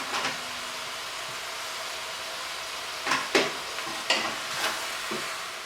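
Lamb browning in a pan for lamb and potato curry, a steady soft sizzle of rendering fat with a few sharper scrapes and stirring knocks toward the end.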